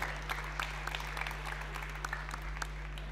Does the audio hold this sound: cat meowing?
no